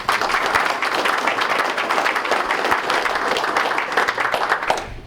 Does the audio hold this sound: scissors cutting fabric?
no